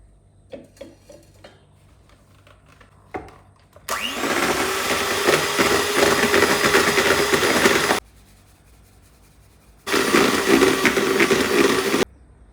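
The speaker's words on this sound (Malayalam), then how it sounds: "ഇടയ്ക്ക് ഷുഗർ ആഡ് ചെയ്യാണ്ട് പകരം കുറച്ച് കുറച്ച് ആഡ് ചെയ്തിട്ട് ബീറ്റ് ചെയ്ത് ബീറ്റ് ചെയ്ത് വരണം" An electric mixer beats sugar into chocolate cake batter, whirring loudly in two bursts, a long run and then a shorter one after a pause, with faint handling clatter before it starts.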